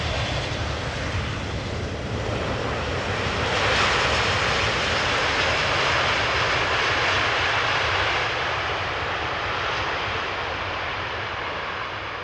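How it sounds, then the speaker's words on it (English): A KLM Boeing 777-200ER airliner landing at Amsterdam Schiphol, a loud continuous jet engine roar that swells as the aircraft passes close by and then slowly fades. "We saw KLM flight 696 land just now, arriving from Toronto, 777-200ER"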